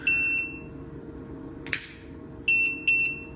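A Toptes PT199 combustible gas leak detector, set to high sensitivity, sounds its alarm in short, loud, shrill electronic beeps. One burst is heard, then a lone sharp click, then two more bursts close together.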